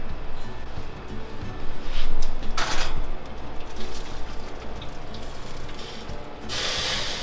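Hot water pours steadily into a 9-inch outer baking pan holding a 7-inch pan of leche flan for a water bath, a continuous close splashing wash with a few brighter bursts of spray.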